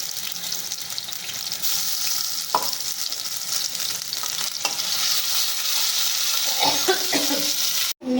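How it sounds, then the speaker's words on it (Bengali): Lentil mixture with chilli and ginger paste stirred in a hot wok for Bengali radhaballavi, a steady close sizzle and frying hiss with scraping stirs throughout and a sharp clatter near the end. "ডালটা নাড়ানো হয়ে গেছে, সব অ্যাড করা হয়ে গেছে"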